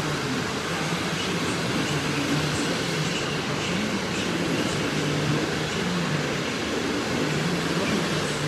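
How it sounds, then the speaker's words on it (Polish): A TLK Galicja passenger train arriving at a station on the way to Kraków produces a steady, loud, even rumble and hum that runs the whole time without clear individual clanks. "Wjeżdża pociąg TLK Galicja ze stacji"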